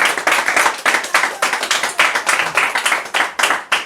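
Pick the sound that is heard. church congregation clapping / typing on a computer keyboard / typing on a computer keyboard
church congregation clapping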